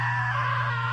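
A short, loud scream in the video game What Remains of Edith Finch, a steady high-pitched cry held for under a second over a constant low hum.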